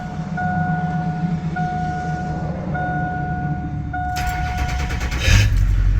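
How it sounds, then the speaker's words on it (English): A cold-started LB7 Duramax diesel engine in a pickup after two days sitting: steady idle rumble with tonal whines, then a louder clattering burst as the engine catches near the end, close by and without talk. "So this is its cold start after sitting for 2 days."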